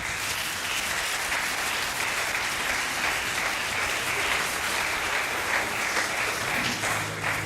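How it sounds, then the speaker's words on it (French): Applause for a visiting reverend at a church service in Martinique, a dense, continuous wash of many hands clapping together, loud and even throughout without letting up. "Put your hands together for him."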